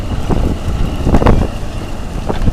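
A KhTZ tractor pulling a disc harrow on a sloping field revs its engine in low, uneven surges as its wheels slip, under strong buffeting wind noise on the microphone.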